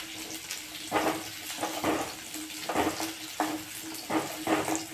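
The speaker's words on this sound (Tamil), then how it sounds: "கடாயை வச்சுட்டு அதில் எண்ணெய் ஊற்றிட்டு சின்ன வெங்காயம் நிறையா ஒரு கை அளவு பொளித்து அலாசி நீரில் நல்லா கழுவிட்டு அதை நல்லா வதக்கிடுங்க" Small onions sauté in oil in a kadai over high flame, a soft sizzle broken by regular scraping stirs about once a second, close by and without talk.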